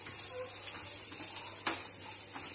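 Onion sautéing in a pan for oats idli gives a soft, steady sizzle with faint stirring clicks and scrapes, close and quiet.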